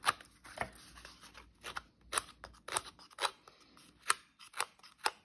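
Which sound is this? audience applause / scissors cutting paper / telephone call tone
scissors cutting paper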